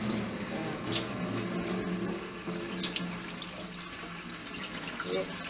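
Running tap water pours steadily over basmati rice being rinsed in a bowl at a kitchen sink, a continuous close splashing wash with small sloshes and clinks throughout.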